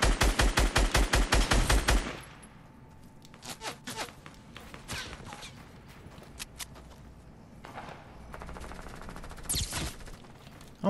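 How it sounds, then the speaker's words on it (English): Rapid automatic gunfire in Fortnite sounds as a loud, close burst of evenly spaced shots. Scattered single shots and footsteps follow, then another short burst near the end. "Why is this guy shooting at me?"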